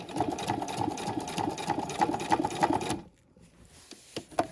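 A sewing machine stitching a backpack strap seam runs in a fast, loud mechanical chatter for about three seconds, then stops, leaving a few faint handling clicks.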